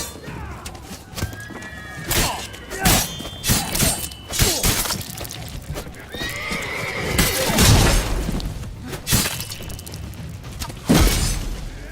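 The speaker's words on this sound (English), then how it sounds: "We grab Roderick's horses and we bolt." Horses whinny amid crashing and shattering effects, with hoof clatter and bursts of impact noise in a busy action scene in the video game The Witcher 3.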